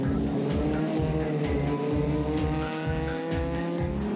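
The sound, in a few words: racing cars battling on a track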